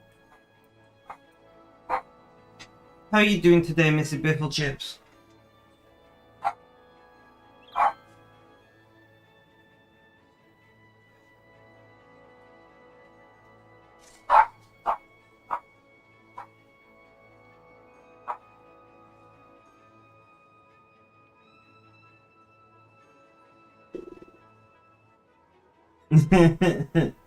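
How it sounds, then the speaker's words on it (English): A dog barks in short, sharp bursts indoors, with one loud cluster of rapid barks and scattered single yips at other moments, while a person speaks briefly. "Sorry about the dog barking, the microphone's picking it up."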